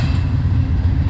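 A heavy train rumbles past close by, a steady low roar with faint rhythmic clatter from the wheels on the rails.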